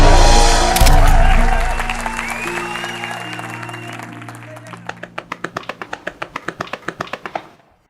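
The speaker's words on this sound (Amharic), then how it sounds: "አጨብጭቡላት" An audience applauds a woman introduced on stage. Sustained tones fade out under the clapping, which tightens into a loud, steady rhythmic clap in unison before stopping abruptly.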